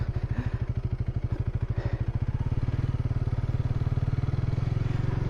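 A motorcycle engine idles with a steady, rapid, thumping pulse close by, then picks up slightly as a little throttle is added, with no speech over it.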